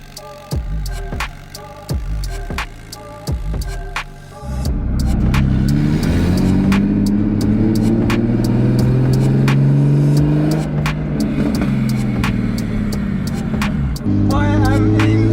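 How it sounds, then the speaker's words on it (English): A single-turbo BMW 335i with an N54 engine tuned to 800 wheel horsepower idles with sharp pops and crackles, then roars into a loud, sustained acceleration with rising engine pitch, close and dominant, with a speaking voice faintly present. "I am in a single turbo N54 powered 335i, and what an exciting car this is."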